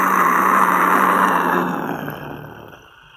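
A person imitates an animal roar with a loud, sustained, breathy voice that fades out over about three seconds.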